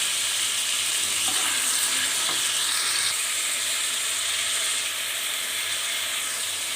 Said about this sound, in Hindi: लहसुन अदरक को मैंने सौते कर लिया है